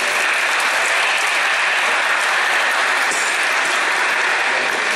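A church congregation at a Christmas Eve Mass breaks into sustained applause, a dense, steady wash of clapping that fills the space at full loudness throughout.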